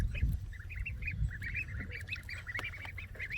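A duck quacks after its first dive with its head under the water, a quick rhythmic run of nasal calls over a low background rumble.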